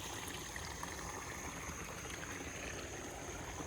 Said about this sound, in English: Pretty much all the way up the driveway, we've got a river flowing